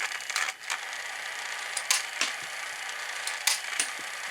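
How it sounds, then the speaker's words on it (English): A small motor whirs steadily inside a Tomy Starriors Dead Eye toy, a faint mechanical hum punctuated by several sharp clicks and ticks of the internal mechanism. "So you hear the motor running in there."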